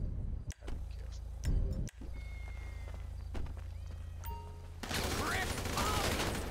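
A gunfight in GTA V with the LSPDFR police mod, Sheriff task force: a few sharp, loud shots crack out amid game rumble, then a dense burst of rapid fire near the end, with voices around it.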